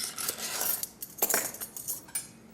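A spoon scrapes and clinks against a bowl while potato salad made with five pounds of Irish potatoes is stirred, giving quiet irregular knocks and scrapes with no voices.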